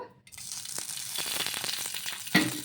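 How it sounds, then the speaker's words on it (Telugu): Green chilies frying in oil in a pan while making a lentil chutney, a steady close sizzle with small crackles and a sharper clatter near the end. "ఇలా ఆయిల్ వేసుకొని కొద్దిసేపు మగ్గించుకోవాలి పచ్చిమిర్చి మగ్గే వరకు"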